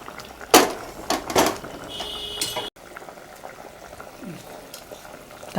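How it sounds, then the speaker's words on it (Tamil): Vegetables for vegetable dalcha boiling in a pot, a bubbling simmer under a couple of loud clanks of lid or utensil early on, then a softer steady bubbling. "நல்லா கொதி வந்து வேகட்டும்"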